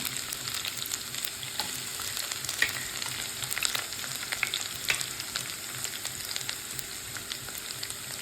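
Chopped ginger and garlic fry in oil in a pan, making a loud, continuous close sizzle with crackling pops and a few stirring scrapes.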